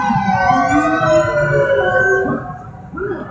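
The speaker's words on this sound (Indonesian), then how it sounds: "Ambulans lewat." Ambulance siren passing by on a road, a loud wailing tone sweeping downward as it moves past and then fading toward the end.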